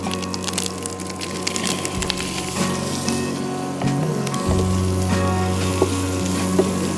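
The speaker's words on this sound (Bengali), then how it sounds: "এরপর আমি চিংড়িটা দিয়ে ভাজবো।" Prawns frying in a pan for masala prawn rice, a close, loud sizzling crackle with snapping pops over a low steady hum, no one speaking.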